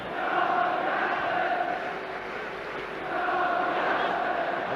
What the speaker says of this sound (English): now they're chanting Johnny Aston, Johnny Aston